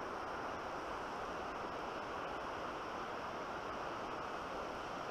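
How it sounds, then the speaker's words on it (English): Steady, dense rush of river rapids near old mining tailing piles, a continuous broadband roar of churning water close by with no pauses or voices. "We made it down to the water. Look at them rapids."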